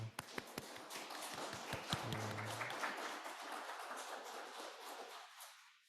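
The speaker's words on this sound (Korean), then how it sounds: "우리 옆에 있는 분들을 박수로 환영했으면 좋겠습니다." Church congregation members at a Sunday service applaud to welcome one another. A few sharp early claps swell into a full round of clapping, which then gradually fades.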